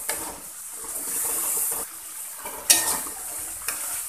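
Spice paste with lemongrass stir-frying in a pan for Betawi beef-rib soto tangkar: a soft close sizzle broken by occasional metallic spatula knocks against the pan.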